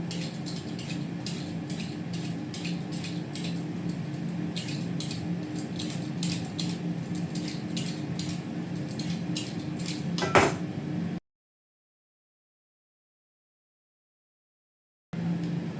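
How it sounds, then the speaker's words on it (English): Carrots being peeled and sliced in a home kitchen, a steady run of light scraping and repeated knife taps against a board, close and fairly quiet, ending abruptly before a brief silence. "time to peel and slice some carrots"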